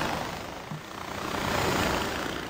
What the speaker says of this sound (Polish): A czy to jest mini helikopter